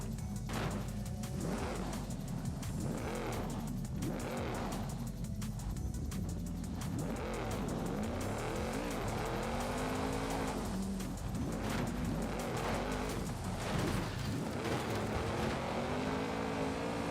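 Racing cars in Forza Horizon 5 roar continuously, engines revving and shifting up and down through gears with occasional tire squeal, a loud sustained mechanical drone with no talking.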